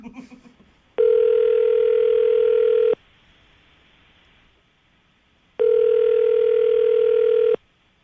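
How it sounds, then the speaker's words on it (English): A steady telephone dial tone sounds twice, each lasting about two seconds, with a quiet pause between. "I'm going to dial the phone number right now"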